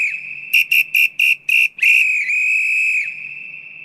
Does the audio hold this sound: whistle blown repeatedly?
yes